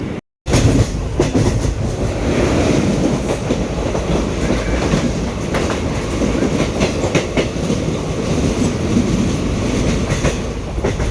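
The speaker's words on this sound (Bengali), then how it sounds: "দেখতে পাচ্ছ ট্রেন চলে এসছে আমাদের" A passenger train pulls into a station with a loud, continuous rumble and rhythmic clickety-clack of wheels over the rails, steady throughout at close range.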